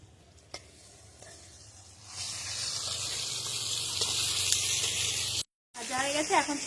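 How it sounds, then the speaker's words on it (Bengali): Fish heads fry in hot oil, giving a steady, fairly loud sizzle that swells after the first couple of seconds, with a few faint knocks and a short cut near the end before a voice speaks. "মাছের মাথাটা মাঝে দুবার আমি উল্টিয়ে নিয়েছি, ভালো করে ভেজে নিয়েছি।"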